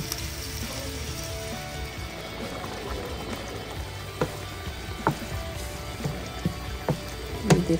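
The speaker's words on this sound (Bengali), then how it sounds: "চিংড়ি মাছগুলো দিয়ে দিলাম, একটু পেঁয়াজের সাথে ভেজে নিব" Shrimp fry with onion in a pan, giving a soft, continuous sizzle with occasional sharp pops and utensil knocks that grow more frequent near the end, no one speaking.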